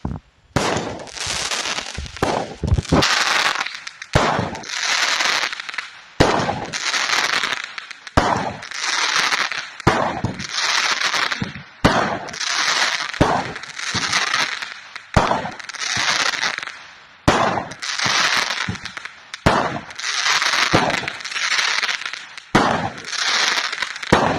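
A rapid run of fireworks from a SKYWAR 30-shot crackling cake: loud crackling bursts fire one after another in quick succession, each shot followed by a fizzing crackle, with brief gaps between volleys.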